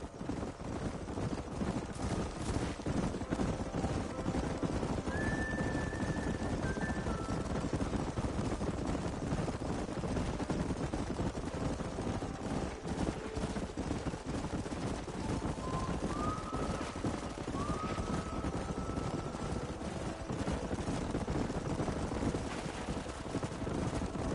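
A Red Dead Redemption game scene with a rapid, continuous drumming of many horse hooves over a rushing wind-like roar, joined by two brief high neighs or whinnies partway through.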